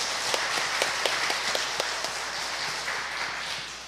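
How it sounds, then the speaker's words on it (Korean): An audience claps at the close of a talk by a doctor at a public academy lecture, a steady wash of applause of moderate loudness, with a few sharper claps standing out, sustained for several seconds without talk. "감사의 박수를 한번 보내드리시죠."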